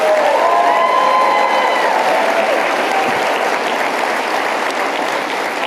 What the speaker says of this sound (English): Big applause for Turning Point USA, please.